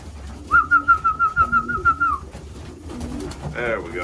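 Young racing pigeons during their moult coo in a rapid pulsing warble lasting about two seconds, close and loud, followed by quieter shuffling and a brief human voice at the end.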